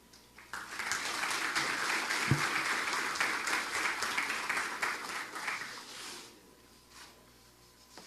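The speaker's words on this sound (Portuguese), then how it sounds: "Vamos receber com uma salva de palmas" An audience at an energy seminar on solar photovoltaics breaks into sustained applause, a dense wash of clapping that swells, holds for several seconds, then fades out.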